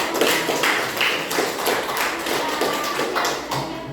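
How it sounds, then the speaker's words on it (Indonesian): Classroom applause from a group of students, a steady patter of many hands clapping fairly close and continuous for several seconds with no talking. "aplaus dulu dong"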